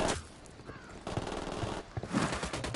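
Rapid bursts of automatic gunfire from Ghost Recon Wildlands crackle close and loud, several sharp volleys firing back to back with brief gaps between them.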